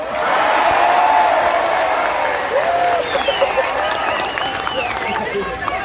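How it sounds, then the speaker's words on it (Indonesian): A large crowd claps and cheers continuously, a dense, loud wash of applause with voices shouting over it. "yang terakhir harus kenceng tepuk tangannya, Zahid Mania."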